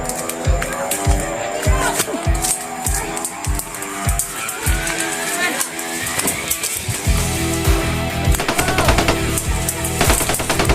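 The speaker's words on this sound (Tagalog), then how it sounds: "May paputok na sila. Ang dami na." Firecrackers go off in rapid, irregular bursts of sharp cracks and pops, many overlapping. The barrage is dense and loud and continues throughout, with faint crowd noise under it.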